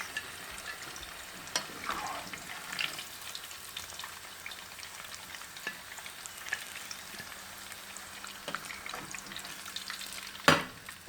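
Stuffed içli köfte frying in hot oil, a steady soft sizzle with scattered pops and crackles, a sharper spatter near the end, with no talk.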